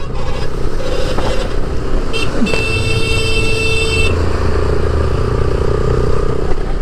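Busy road traffic with trucks, dumpers and motorcycles in Balochistan, Pakistan: steady engine roar with passing vehicles, a couple of sustained horn blasts cutting through midway, no talk.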